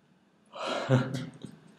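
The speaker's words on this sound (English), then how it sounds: "Sorry about the yawns." One drawn-out yawn, breathy and rising then falling, heard up close in a quiet room.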